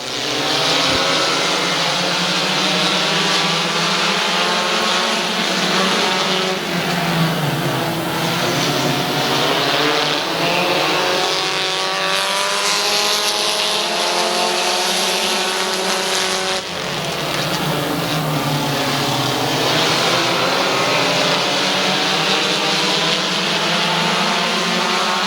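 Stock cars racing in a 15-lap feature at Midvale Speedway, a loud continuous engine roar from a pack of cars circling the oval, with the pitch swelling and dipping as they pass, no talk over it.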